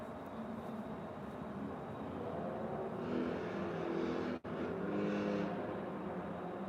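A group of motorcycles rolls past on a road, a steady continuous engine drone with swelling passes as bikes go by, moderately loud and unbroken by talk.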